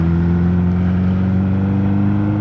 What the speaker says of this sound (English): I myself am riding right now my 2000 Busa